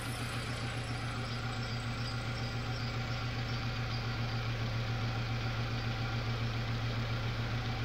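A Ford Ka's Zetec Rocam engine with one dead cylinder idles in a steady, fairly quiet low hum with an even pulse that never changes across the stretch, and no talking.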